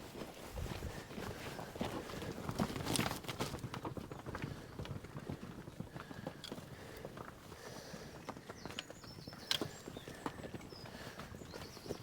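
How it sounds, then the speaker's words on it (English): Cows walking across a farm yard, their hooves clopping in an uneven, steady stream of close footfalls, with a few louder knocks along the way and no talking. "Right, there's some cows."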